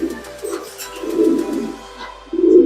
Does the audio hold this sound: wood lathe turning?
no